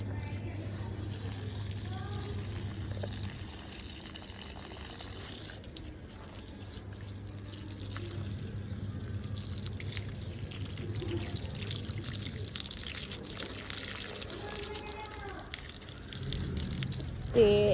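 Water runs from a hose pipe onto garden plants, including a chilli plant, as a soft, continuous trickle and splash at low volume, with faint background noise.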